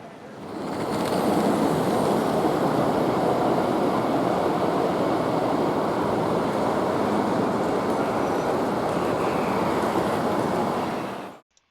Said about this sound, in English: Trains passing on the main line roll by in both directions